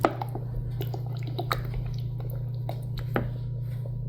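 Old tomato juice poured into a simmering goulash soup, soft wet squishing and glugging drips over a low steady hum, close and quiet, no talk.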